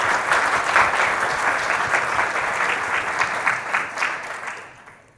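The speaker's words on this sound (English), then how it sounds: "I would like to a round of applause for this." A conference audience at a tech summit gives sustained applause for open-source project maintainers, a dense even roar of clapping that fades out at the end.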